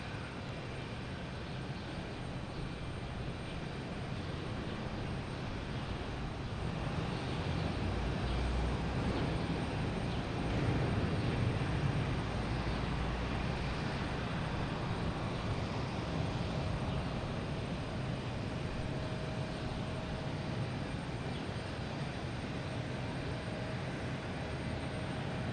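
A British Airways airliner bound for London Heathrow roars steadily at Boston Logan Airport, a broad, continuous engine rumble that swells slightly midway and holds loud throughout with no talking.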